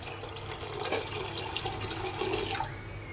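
Water pours steadily over chana dal with turmeric and desi ghee in a pressure cooker, a continuous close splashing and trickling that runs for about three seconds.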